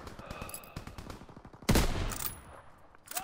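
Rapid video game gunfire, a fast crackling string of shots followed by a heavy burst and a few more scattered rounds, close and sharp.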